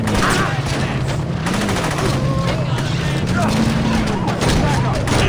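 Sustained gunfire rattles in the Saints Row video game, a loud, continuous fusillade of rapid shots under a steady low drone, with voices speaking over the shooting.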